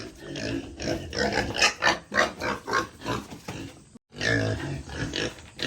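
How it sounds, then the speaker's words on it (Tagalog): Hungry farm pigs grunt and squeal in a rapid, irregular series of loud, close calls with a short gap partway through. "Gutom lang ang aming baboy."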